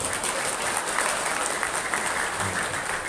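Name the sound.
audience applause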